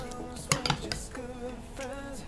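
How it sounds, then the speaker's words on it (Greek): A spoon stirs 200 g of strained yogurt with 100 g of mayonnaise in a small glass bowl, giving a few sharp clinks of metal on glass at the start, then a softer scraping swirl, close and alone. "Ανακατεύουμε."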